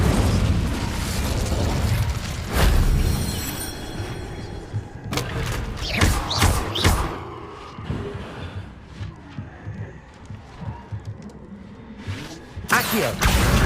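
An Incendio fire spell cast in the video game Hogwarts Legacy on Xbox, producing repeated loud fiery bursts and booming blasts amid dense game sound effects, with a sharp burst near the start and another at the end.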